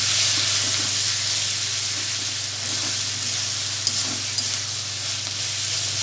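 Ginger garlic paste stirred into chicken frying in a pan for a Bengali chicken curry, a loud steady sizzle and hiss with faint scraping of the spoon throughout, close up and without speech.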